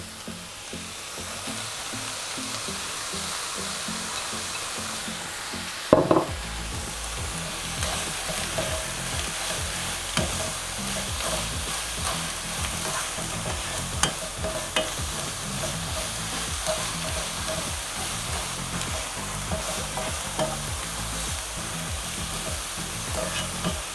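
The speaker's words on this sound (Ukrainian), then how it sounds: "Смажимо все до золотистого кольору." Onions and carrots sizzle steadily in a frying pan while a spoon scrapes and stirs through them, with a sharp clatter early on.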